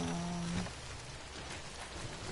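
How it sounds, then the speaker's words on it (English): Steady rain in the video game Death Stranding, a dense even hiss filling the whole stretch, with a low sustained tone fading out early and no talking over it. "I'm gonna wait out the rain here."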